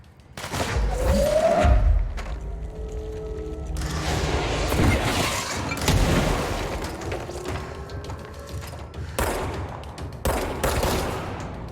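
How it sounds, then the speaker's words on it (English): Rocket-propelled grenade blasts and heavy firefight noise in the video game Control, with a loud boom near the start followed by continuous rumbling explosions and gunfire, plus scattered sharp impacts later on. "Rifle propelled grenades."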